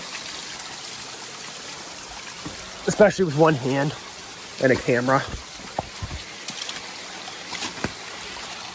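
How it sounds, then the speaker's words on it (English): A small waterfall rushes and splashes continuously over rocks close by in remote South Carolina, a steady bright wash, while someone speaks briefly partway through. "I just found this really cool waterfall."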